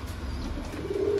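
Soft pigeon cooing, a low rounded call rising slightly near the end, close by with faint background noise and no talking.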